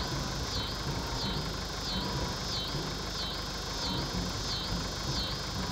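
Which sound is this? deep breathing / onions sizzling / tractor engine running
tractor engine running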